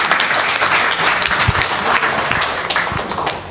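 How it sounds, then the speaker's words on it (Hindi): Audience applause at a kavi sammelan and mushaira in Bhopal welcomes a poet to the stage, a steady, dense wash of clapping with a few louder close claps standing out. "तालियों से स्वागत कीजिए।"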